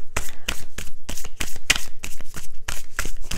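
Oracle cards shuffled and drawn for a monthly reading, a rapid close string of loud papery riffles and slaps in a quick uneven rhythm.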